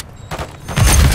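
A brief weapon magazine reload in Call of Duty Modern Warfare 3, with quick mechanical clicks and clacks building to a louder metallic snap, close and loud.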